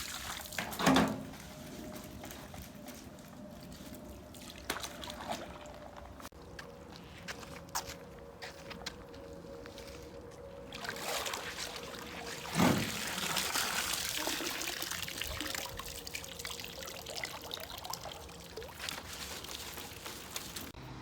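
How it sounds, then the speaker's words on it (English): A skimmer net on a pole scooping leaves, dirt and water off the top of a swimming pool cover, giving intermittent wet swishes, trickles and splashes at close range with one sharper splash midway and no talking. "using my skimmer pole and skimmer net, I'm going to first scoop all of the leaves and dirt out of the top of the pool cover"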